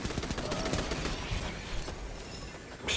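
Dense, continuous gunfire from Destiny 2 aimed at a wizard enemy, a busy crackling stream of shots and mechanical clatter at moderate level throughout, with no clear gaps.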